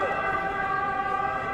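A short ambulance siren, a steady wailing tone with layered harmonics, loud and continuous throughout the brief moment.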